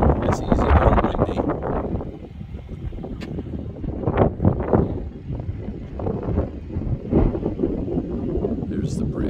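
Gusty wind roars and buffets the microphone on top of Grandfather Mountain near Banner Elk, almost 7,000 feet high, as a loud, continuous low rumble with surging swells.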